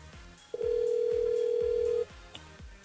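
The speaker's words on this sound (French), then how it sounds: "Elle appelle Estelle alors, du côté de Saint-Louis." A telephone call placed live on a French-language FM radio show in Réunion: a steady ringback tone sounds for about a second and a half, clear and loud over faint background music, then cuts off.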